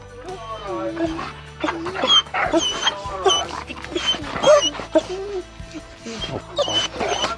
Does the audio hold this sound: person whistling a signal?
no